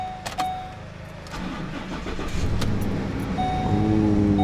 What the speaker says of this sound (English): We're gonna see if this thing cranks.